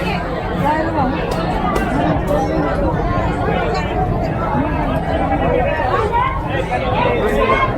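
Dense crowd chatter fills Sassoon Dock fish market in Mumbai, a constant close babble of many overlapping voices with scattered clatter, steady and loud throughout.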